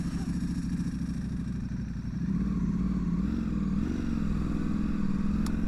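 Engine of a 2025 Ducati Panigale V4S Tricolore motorcycle sitting in traffic, a loud, close, steady low rumble that rises in pitch around the middle as the throttle is blipped, then settles into a continuous throaty drone.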